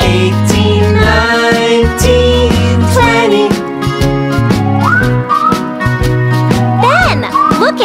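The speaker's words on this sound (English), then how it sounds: "And they're whistling?" Bright whistled notes slide upward over bouncy, cheerful music, with a voice heard briefly.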